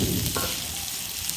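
Fish sizzles as it fries in a pan, with a steady close hiss and no talking.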